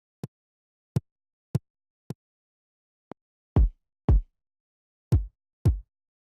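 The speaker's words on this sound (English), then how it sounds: "I just used two samples. As you can hear, one sounds like this and the other sounds like this" Two different kick drum samples for an instrumental remake: first four short, clicky thumps evenly spaced, then after a tick, four fuller, boomier kicks, each played alone and close.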